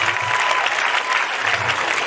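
An Independence Day celebration audience gives loud, sustained applause while parents are honoured on stage, a close, continuous roar of many hands clapping with a faint crowd murmur and occasional low thumps beneath.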